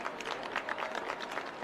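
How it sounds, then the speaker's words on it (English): Crowd at a high school football game applauding an injured player as he is helped off the field, a steady patter of distant clapping from the stands, faint and even throughout. "East Central is applauding him, the players."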